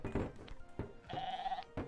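A goat bleats in the Goat Simulator video game, one drawn-out bleat in the middle between several short thuds and knocks.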